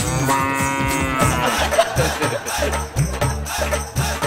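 A bull's moo sound effect rings out in long tonal calls at the start of a Telugu TV comedy stage skit, then gives way to loud rhythmic background music with a steady beat.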